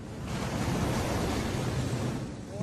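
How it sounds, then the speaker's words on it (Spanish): British motor gunboat MGB-81 cutting through ocean waves at high speed, a loud, continuous rush of surf and spray with wind noise and no clear engine note. "mirad con qué facilidad atraviesa las olas"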